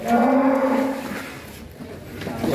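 A huge bull being raised for Qurban sacrifice lets out a loud, deep moo from inside its pen. The sound is close and fades out over about a second and a half, with no talking.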